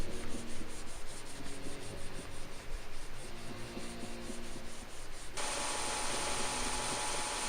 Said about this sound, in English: Now to get the sides done, I used our what's that called? Belt sander.